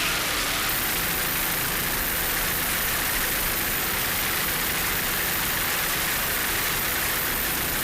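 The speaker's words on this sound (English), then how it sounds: "Darren Schwartz and Troy Hannon aboard, doing a great job in their 32-foot Doug Wright, running in the Superboat stock class here in Hollywood Beach" A 32-foot Doug Wright powerboat races in the Superboat stock class off Hollywood Beach, its engines a loud, continuous roaring drone blended with broad wind and spray noise, unbroken throughout and without speech.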